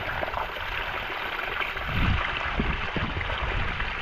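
Steady rushing and trickling water runs continuously into a fish pond, a bit louder near the middle, with no voices.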